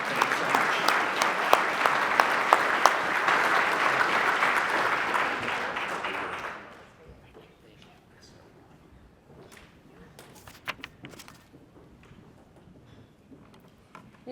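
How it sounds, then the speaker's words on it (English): An audience at a police awards ceremony applauds for several seconds, a dense and fairly loud clapping that fades out abruptly. After it, quiet room noise and a few scattered claps remain. "For another round of applause, Investigator Franklin."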